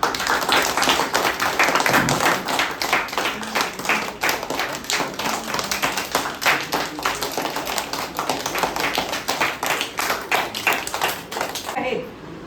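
Schoolchildren clap for their teacher's birthday at a school celebration, a dense, continuous patter of many small hands that fills the room and stays steady throughout, with a brief drop at the very end.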